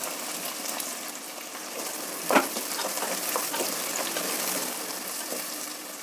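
Green peas and curry leaves frying in hot oil in a pan, a steady close sizzle throughout with one brief clatter as more go in, no voices.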